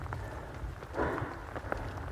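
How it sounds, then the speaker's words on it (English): Rain running down the front of a camera lens outdoors at a winter carp fishery, faint irregular drips and soft patters over a low background rumble, with no voices. "the rain is running down the front of the lens"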